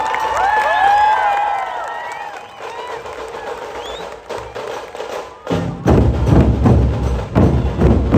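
A crowd at a Ganesh festival procession in Pune, with cheering and scattered claps building into louder clapping and thumping, outdoors and lively, with voices shouting through it.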